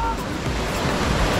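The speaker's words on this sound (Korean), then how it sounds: "파도." Ocean waves wash in a continuous broad roar, with wind buffeting the microphone.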